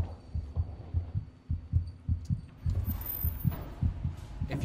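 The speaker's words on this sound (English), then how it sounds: "You can hear that heartbeat, and I love that." A steady, throbbing heartbeat from the horror video game Among the Sleep, regular low double pulses repeating about every half second, loud and close with faint ambient hum behind.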